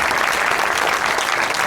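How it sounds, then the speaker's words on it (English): A live audience applauds a panel at an estate agency event, giving a brief, steady wash of many hands clapping at fairly close range. "Big clap for everyone."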